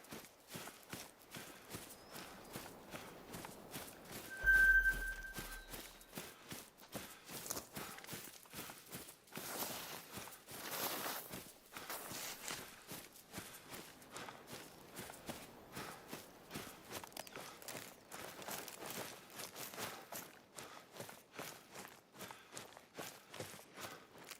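Footsteps crunching through deep snow in theHunter: Call of the Wild during a blizzard, a steady run of soft, repeated steps under constant wind, fairly quiet throughout, with one brief louder thump early on.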